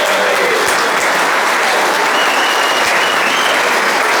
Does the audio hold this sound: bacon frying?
no